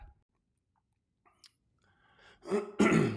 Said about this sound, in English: Excuse me as I may cough through the show a little bit.